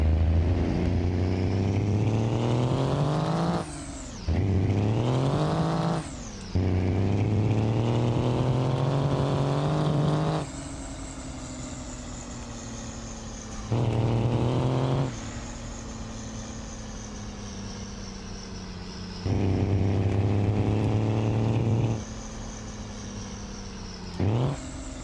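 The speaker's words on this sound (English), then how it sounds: "I just want y'all to be able to hear the way the truck sounds now." Modified truck engine in the BeamNG.drive driving game, revved over and over: loud, close rising engine pulls that climb in pitch, cut off abruptly and restart, several bursts separated by lower idling stretches, with no voices.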